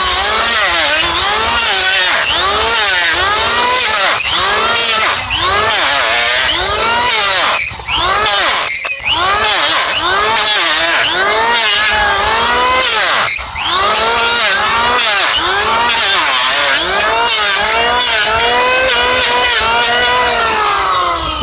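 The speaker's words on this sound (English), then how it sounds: "I have the electrical planer here, which that's what I use to, omit the nippers and the rasp" Electric planer grinding down a draft horse's hoof during shoeing, a loud continuous motor whine with a steadily wavering pitch as the blade bites, close up and unbroken, with no speech.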